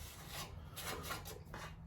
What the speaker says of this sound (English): We're gonna start sanding all of this.